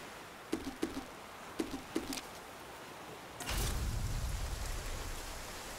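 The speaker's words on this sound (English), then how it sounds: "Rain is coming. Seek shelter and wait for it to pass." Rain in the video game The Flame in the Flood: a few soft ticks, then a steady, faint hiss of rainfall sets in partway through and carries on to the end.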